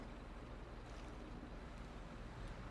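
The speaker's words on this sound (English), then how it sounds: "Water's calmed down just a little bit." Gentle ocean water in GTA 5 laps and washes steadily with a soft broadband hiss and low rumble, quiet and continuous with no voices.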